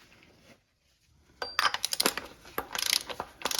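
Oil filter being spun by hand onto the threads of a Toyota Sienna engine, a run of quick, close metallic ticks and scrapes with uneven rhythm after a brief quiet start.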